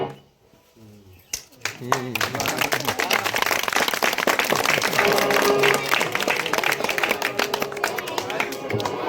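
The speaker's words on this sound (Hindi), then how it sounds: "अगर होली अच्छी लगे तो एक जोरदार तालियां जरूर बजाइएगा।" Village audience at a rural magic show breaks into applause, starting after a quieter moment and building into dense, loud clapping with crowd voices, continuing steadily.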